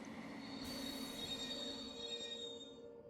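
Train wheels squeal steadily in the A-Train simulation game as a rail car rolls through a town, a continuous metallic screech with high whining tones that starts mid-run and gradually fades near the end.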